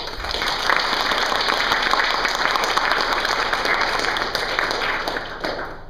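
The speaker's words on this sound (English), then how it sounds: "take a moment and give him a round of applause, please" A university lecture audience at Florida Gulf Coast University gives a steady round of applause, a dense wash of clapping that holds evenly for several seconds before tapering off.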